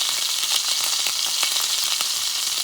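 A steak sears in a hot pan for steak au poivre, giving a steady, loud sizzle with scattered sharp pops and crackles throughout, with no voices.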